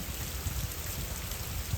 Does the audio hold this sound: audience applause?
no